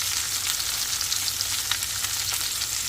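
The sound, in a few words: seer fish frying in oil with curry leaves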